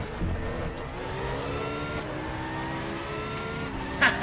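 Race car engines in the sim racing game RaceRoom drone steadily, holding a continuous mid-pitched hum with slight pitch shifts. A brief louder burst comes near the end, and no voices are heard.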